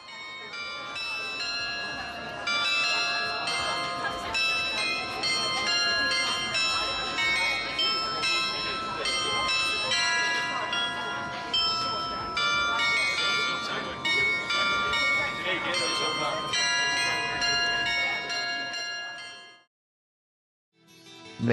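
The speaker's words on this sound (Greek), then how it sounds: "Από το διπλανό κτίριο ακούγεται μουσική από τις καμπάνες στην πρόσωψη." Church bells on a building facade in Düsseldorf ring out a tuneful melody, steady and fairly loud for about twenty seconds with clustered chiming tones, then stop abruptly into near silence.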